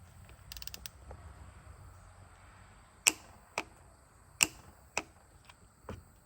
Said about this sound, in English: go ahead and torque it down to 32 foot-pounds